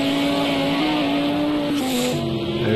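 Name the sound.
racing car engine noise in video game Project CARS 2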